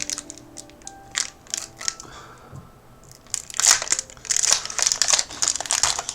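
A Pokémon Lost Origin card packet from an advent calendar is crinkled and torn open up close, with sharp foil crackles in short bursts that grow louder and denser as the wrapper rips apart.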